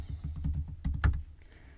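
Keys clatter on a computer keyboard in a quick, uneven burst of close taps, one sharper stroke near the end, with no voices.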